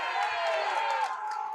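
A Mexican cheering section at a Storm Bowling amateur national grand finals yells and whoops in a brief, bright burst of crowd voices, fairly close and lively.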